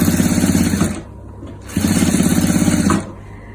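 A sewing machine stitches in two loud, close bursts of rapid, even clatter separated by a short pause, with no talking.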